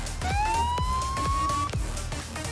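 A siren wail rising in pitch over a rumbling engine and repeated thuds, loud and close, from a police car in Forza Horizon 4.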